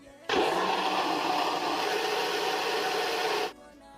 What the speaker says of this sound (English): Next, add 2 cups of water to the food processor, and then get ready to blend it